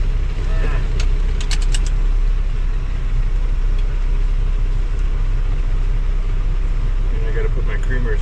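A truck engine rumbles steadily and loudly at a drive-thru as the truck is put in gear and pulls away, with a few light clinks over the continuous low drone.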